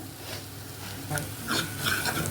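An onion, tomato and green chilli masala cooks in a pan for paneer dosa. Soft scraping and stirring sounds run over a faint sizzle, quiet and close, rising slightly toward the end.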